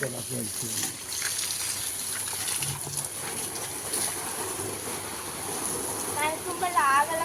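Water gushes steadily from a garden hose pipe while a homestead plot is watered, a continuous close rushing flow with someone talking over it throughout.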